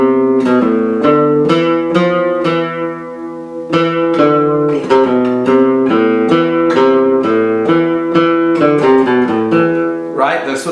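Flamenco guitar thumb strokes played at an altered attack angle come through with a scratchy, less clean edge, as a rapid stream of close, bright plucked notes and strummed chords ending in a brief rasgueado flourish.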